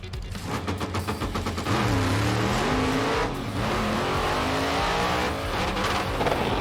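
A 1957 Glass Craft car launches down a drag strip with a loud, close engine roar that climbs steadily in pitch. Brief dips mark two gear shifts before the engine winds up again.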